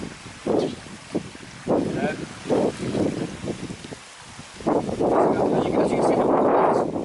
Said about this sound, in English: it's windy, it's spitting, it's a bit of rain